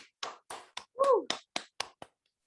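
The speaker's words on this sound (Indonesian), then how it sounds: "kita sama-sama kasih tepuk tangan buat Tuhan Yesus" About nine separate, evenly spaced claps ring out close and alone during an online youth church service, with a short voiced sound near the middle and no crowd behind them.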